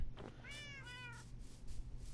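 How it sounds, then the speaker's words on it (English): A cat in the Minecraft Bedrock video game on PS4 gives a short, clear meow, a couple of rising-falling cries close up over a low background hum. "hosting a colony of cats hanging out at the iron farm to prevent further cat spawns"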